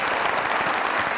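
A comedy talk-show studio audience claps for a hat in a continuous, full burst of applause that fills the moment without talk.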